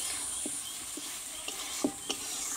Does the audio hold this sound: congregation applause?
no